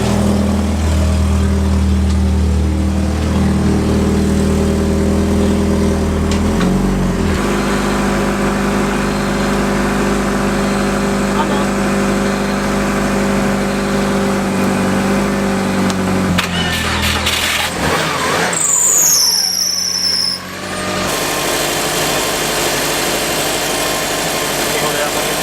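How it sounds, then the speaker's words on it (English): A car engine runs steadily at idle with a low, continuous hum and vibration, close to the listener, after a radiator has just been installed; brief rustling and a short high-pitched squeal occur near the end. "Alrighty, so the car is running."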